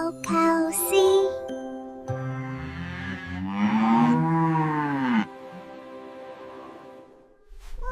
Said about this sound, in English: Cow, cow, C.